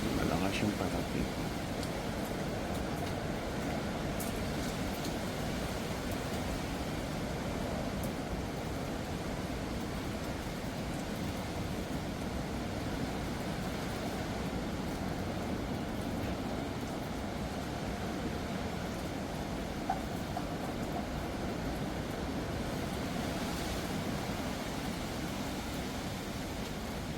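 Strong typhoon winds and heavy rain from Typhoon Sinlaku roar steadily as a dense, unbroken wash of noise, with people talking in the background.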